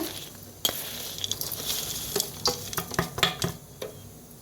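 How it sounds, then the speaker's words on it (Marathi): Spice masala being worked by hand into fine semolina dough for crunchy sev, with soft irregular squishing and stirring sounds, brief kitchen clinks and a sharp tap near the start, close and moderately quiet. "आता ओतून घेतले हाताने मिक्स करते"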